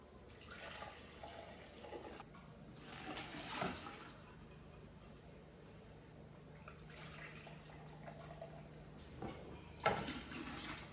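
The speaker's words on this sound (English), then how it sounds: "I'm going to take the liquid that I got from straining the peaches, and I'm going to put 5 1/4 cups and add it back into this pot" Strained peach liquid poured into a pot holding clear gel and sugar, a soft steady splashing and trickling stream with a few louder surges, close by and with no talk over it.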